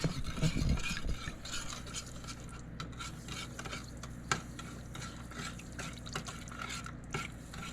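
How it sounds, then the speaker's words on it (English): Dry ingredients stirred steadily into a wet batter, giving a continuous soft, wet scraping and sloshing with occasional spoon knocks against the bowl, close and moderately loud throughout. "So now we're gonna add the dry ingredients into the wet ingredients. And we're just gonna stir that constantly."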